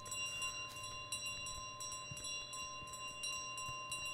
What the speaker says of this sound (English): Oh, and the bell, the bike has a bell.